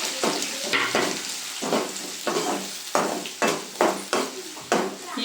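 Chana dal, green chillies and onion frying in a pan for Yippee noodles, a loud sizzle broken by repeated scraping stirs in a steady rhythm, close up with no talking.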